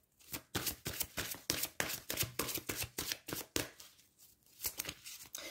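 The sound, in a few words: shuffling tarot cards to draw another card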